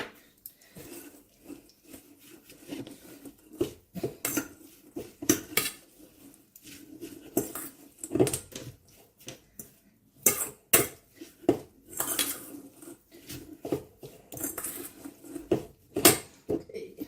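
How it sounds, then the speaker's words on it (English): Salad with marinated feta tossed in a bowl with cutlery, a close series of irregular clinks, scrapes and taps of utensils against the bowl, with soft wet shuffling between. "Mix it in the not so nice bowl."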